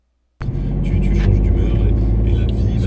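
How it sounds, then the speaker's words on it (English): Road traffic in France, with cars passing on a busy street: a broad, steady rumble of engines that starts abruptly and holds at a fairly loud, even level without clear gaps. "So yes, France does get traffic."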